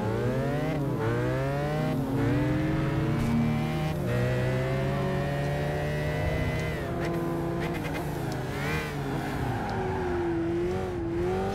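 A loud, high-revving McLaren race car engine in Gran Turismo 5, on a Madrid circuit, whines steadily, pitch climbing and dropping through gear changes with no talking.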